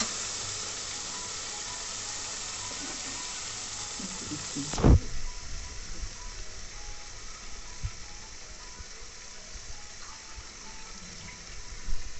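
Water poured into a cooking pan of frying mustard-sauce puti fish, a steady sizzling hiss that breaks into a sharp burst around the pour, then settles to a softer bubbling simmer, no voices.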